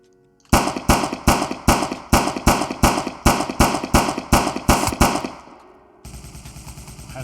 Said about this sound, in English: Let's see if he shoots me. Yep. And you shoot him in the head.